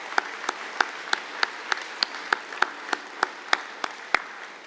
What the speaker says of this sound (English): give an applause to our linemen